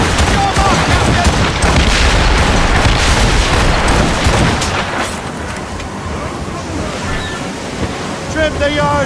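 Ship cannons fire in Assassin's Creed Rogue during a naval battle, dense booming volleys over crashing sea surf and wind for the first half, easing into quieter waves and scattered distant blasts, with shouted crew voices mixed in.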